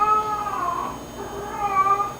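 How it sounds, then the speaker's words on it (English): Cat in heat yowling indoors, two drawn-out, wavering meows close to the microphone with a short gap between them. "That's what happens when you have a cat that's in heat all the time."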